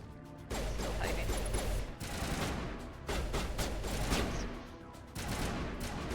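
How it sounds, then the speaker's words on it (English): Sustained gunfire in the video game Mass Effect, a dense, continuous barrage of rapid shots with a few brief dips, steady and fairly loud throughout. "My colleagues are shooting at something"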